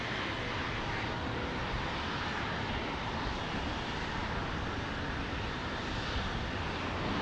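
A Southwest Airlines airliner arriving at Phoenix Sky Harbor from Nashville produces a constant, loud engine roar without variation, with no voices present.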